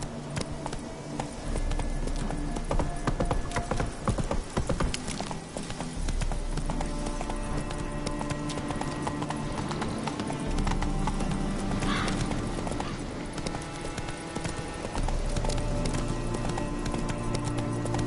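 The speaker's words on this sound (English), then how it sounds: "Whoa there, Roach." A horse trots in the video game Witcher 3: Heart of Stone. Its hooves give a steady, rhythmic clip-clop over a busy background of game ambience.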